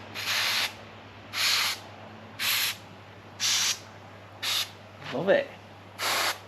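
A sprayer used on a boat gives seven short, loud hissing bursts in an even rhythm, each about half a second long, with a low steady hum underneath and brief speech between bursts.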